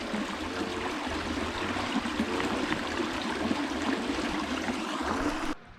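A very small river near Cantobre on the Causse Noir flows steadily, a continuous broadband babble of water close by, with a low hum underneath, cutting off abruptly at the end.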